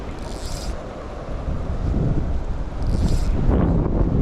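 A strong headwind gusts down a high-country river, a broad steady roar and buffeting against the microphone that swells louder toward the end, with no voices.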